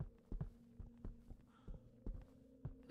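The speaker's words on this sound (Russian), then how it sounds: "У меня сердце бьется." A steady heartbeat sound effect from the horror game Demonologist pulses in a slow, regular double thump over a low hum, fairly quiet and alone.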